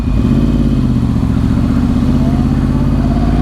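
A motorcycle fitted with a Healtech quickshifter idles and revs steadily nearby at a comfortable RPM, its engine a loud, continuous low drone with no speech over it.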